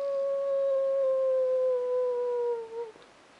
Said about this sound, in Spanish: A ver si se oye por ahí algún lobo que me ambiente.